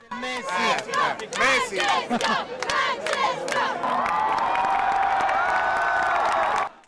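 Crowd of Argentine tourists in Rome wildly cheering and shouting for the newly elected Pope Francis, with rhythmic bursts of chanting voices giving way to a sustained, loud roar and high whoops.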